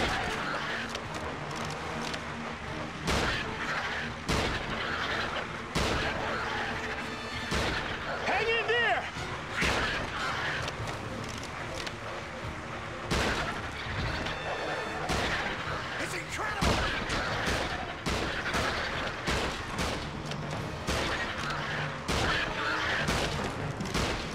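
Repeated gunfire in the King Kong video game: loud, close shots and bursts crack out steadily over a busy background of game noise, and voices shout in between.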